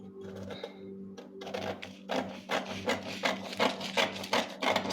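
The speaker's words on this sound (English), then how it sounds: "cut this out with my paper scissors" Paper scissors snipping through a paper dress pattern, a run of crisp rhythmic cuts close by that start after a brief pause and repeat steadily.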